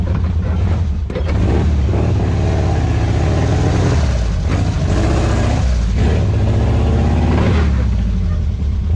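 Off-road pickup truck built as a caged trail rig, its engine revving loudly on a dry dirt trail toward brush, with surging mid-pitched roars and brief dips across the run.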